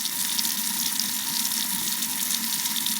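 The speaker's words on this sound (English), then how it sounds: "Tap water." Tap water running steadily from a faucet, a loud, close, continuous hiss and splash with no pauses and no voices.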